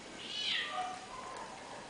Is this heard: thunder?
no